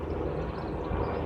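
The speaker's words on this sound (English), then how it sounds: "That bloody DEA fella's not letting up, is he, his helicopter?" A DEA helicopter flies overhead above a small farm, its engine a steady, muffled low drone that holds evenly throughout without other sounds.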